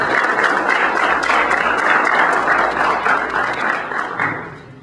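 An audience at a university postgraduate school in Trujillo applauds a guest lecturer, steady dense clapping filling the room for about four seconds before tapering off at the end.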